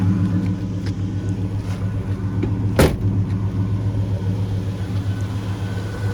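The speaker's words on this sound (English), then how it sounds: "Really smooth running Ford FE engine." A 1970 Ford Torino GT's 429 Super Cobra Jet Ford FE V8 idles steadily with a low, even rumble and smooth harmonics, holding a constant note throughout with one brief click midway.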